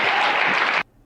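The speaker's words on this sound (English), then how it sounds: "And a round of applause for Evil Amos, everybody." Audience applause fills the room steadily, loud and dense, then cuts off abruptly near the end, leaving only faint room tone.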